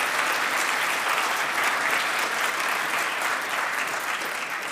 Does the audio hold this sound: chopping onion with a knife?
no